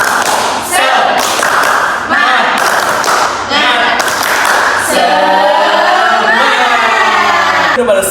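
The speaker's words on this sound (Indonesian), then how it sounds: "Kita tepuk semangat dulu biar kita semua semangat." A classroom group claps the rhythmic 'tepuk semangat' in quick patterned bursts, chanting loudly together over the claps, close and energetic.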